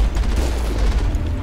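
Machine rifle fire in the video game Mass Effect, a loud, continuous, rumbling stream of rapid shots without pause.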